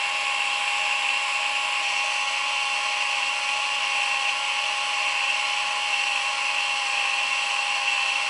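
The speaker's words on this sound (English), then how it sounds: "The motor sounds healthy, sounds good. If I close the cover, it continues to rewind" Motor of an Olympus Infinity Stylus Epic DLX compact film camera rewinding film, a steady high-pitched whirring whine heard close up and continuously, with no voices.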